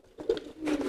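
Pigeons coo softly at close range in two short bursts of throaty, rolling calls, with no one talking.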